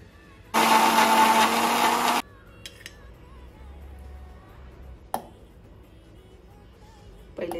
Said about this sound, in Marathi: मिक्सरमध्ये डाळ आपण थोडी जाडी भरडी वाटून घेणार आहोत।